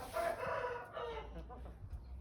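A rooster, young cockerel bred from a champion line, crows once in a long drawn-out call, fairly close and loud, followed by softer farmyard noise.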